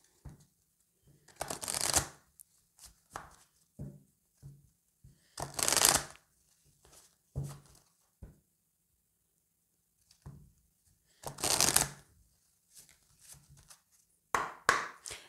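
Oracle cards for a tarot reading shuffled in repeated loud riffling bursts separated by pauses and soft handling taps, close and alone without talk.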